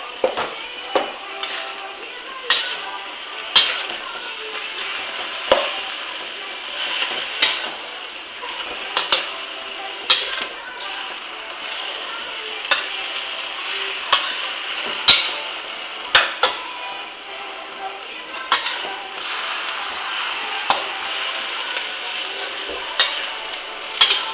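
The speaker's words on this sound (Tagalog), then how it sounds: "Haluin natin siyang mabuti." Minced pork frying in a pan, Bulacan-style giniling: a steady close sizzle with frequent sharp scrapes and taps as a utensil stirs the meat against the pan.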